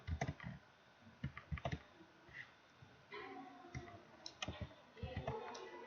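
Computer keyboard keys click in short, quiet bursts of typing, including presses of the Enter key, close-up and soft in an otherwise quiet room.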